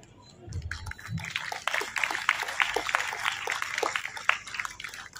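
An audience claps in a scattered, moderately distant round of applause that builds and then thins out, with a brief low voice at the start.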